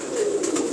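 A brief, fairly close burst of low, throaty cooing from a fancier's pigeons, continuous and without any voices.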